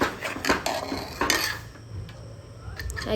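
Metal utensils scrape and clatter against a pan as food is stirred and fried on a gas stove, a run of close, busy clinks and scrapes that thin out toward a quieter sizzling stretch, with no voices.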